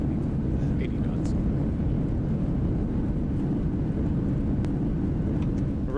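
Thrust reversers on a Boeing 737-900 in the X-Plane 11 simulator roar as a steady, broad, rumbling wash of engine noise during landing rollout, loud and unbroken throughout.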